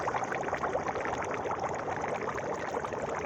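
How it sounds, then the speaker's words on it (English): Water bubbling up out of the ground from a leak some 200 feet down in midwinter, a steady close gurgling, pouring wash that holds even throughout with no one talking. "And here's the water bubbling."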